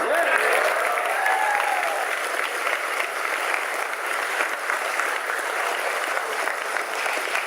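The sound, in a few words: audience applause and claps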